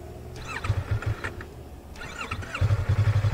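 A motorcycle engine cranks and starts: a couple of short starter bursts, then a steady rhythmic idle pulse settling in near the end, fairly quiet and close.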